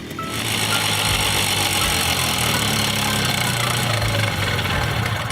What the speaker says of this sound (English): when you turn off the choke, the engine starts that descending gurgle